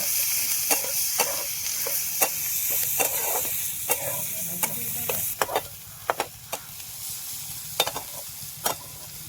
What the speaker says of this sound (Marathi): आता टाकून घेऊ आपण हा बारीक कापलेला कांदा. कांदा मस्त परतून घेऊ लाल होईपर्यंत.